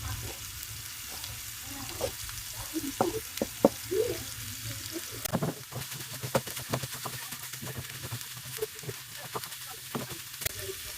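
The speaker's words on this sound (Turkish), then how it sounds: "Bir müddet bu şekilde kavrulmasını bekleyeceğim arkadaşlar" Chopped peppers sizzle and crackle steadily in a hot pan while sautéing for stuffed eggplant, with occasional stirring scrapes and no talking.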